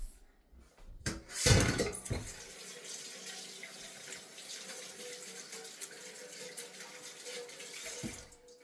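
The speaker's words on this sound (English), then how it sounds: "Wash my hands." Running tap water splashing over hands at a kitchen sink while fish is prepared for dinner, with a louder gush early on that settles into a steady, moderately close flow with no talking.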